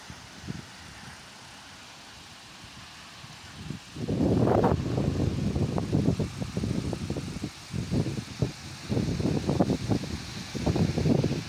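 Strong gusts of wind during a thunderstorm in Isère, France, roar and buffet the microphone in bursts, rising and falling after a quieter stretch.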